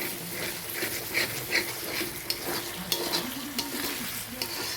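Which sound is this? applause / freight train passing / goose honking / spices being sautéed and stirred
spices being sautéed and stirred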